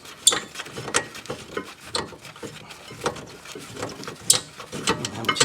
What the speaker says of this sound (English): And get my top bolt out here.